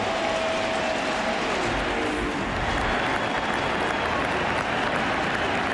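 A packed baseball crowd at a Cubs home playoff game against the Marlins, the 2003 NLCS Game 7, roars and applauds in a loud, unbroken wall of cheering that lasts the whole stretch.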